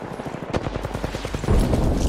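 In a video game battle, rapid automatic gunfire crackles nearby, then a heavier, deep grenade blast swells and rumbles under continued shooting.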